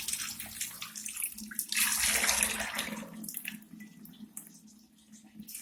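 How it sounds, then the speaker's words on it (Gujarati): Tap water runs over grated potatoes being rinsed for aloo chaat, a steady close splashing hiss that swells loudest for about a second midway, then eases to a softer trickle. "હવે આપણે એને એમાંથી પાણી નીકાળી દઈશું ધોઈને"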